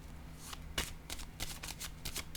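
A tarot card is laid down, giving a crisp slap followed by a run of soft papery brushes and flicks of card handling, close and fairly quiet, with no voice.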